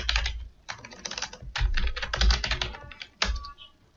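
Typing a username on a computer keyboard, with rapid bursts of close, crisp key clicks separated by short pauses and a heavier keystroke near the end.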